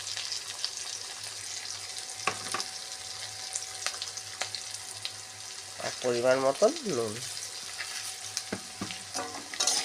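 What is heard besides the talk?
frying spices in oil for ridge gourd fish curry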